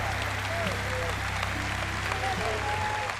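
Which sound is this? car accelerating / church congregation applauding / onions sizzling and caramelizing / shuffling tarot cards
church congregation applauding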